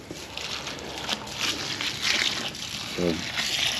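Water splashing and trickling steadily as it is poured onto chicken feed to soak it outdoors on a muddy farm, a continuous close wash of liquid with a brief faint voice-like sound partway through.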